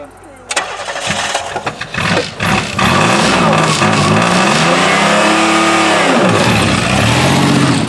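A 1990 Pontiac 6000 with factory all-wheel drive is started in neutral: the starter cranks in uneven bursts before the engine catches, revs up loudly, dips and settles into a steady idle, heard up close.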